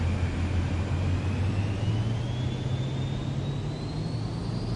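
An aircraft engine drones steadily during a landing approach in Flight Simulator 2024, a loud constant low hum with a slowly rising whine, no talking.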